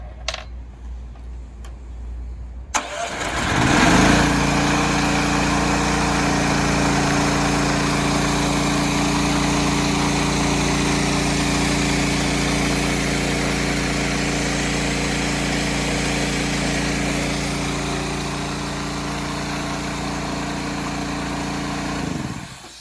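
A VMAC G30 air compressor running on its regulator alone starts up after a few seconds of quiet and then holds a loud, steady mechanical drone that eases slightly near the end, with no voices over it.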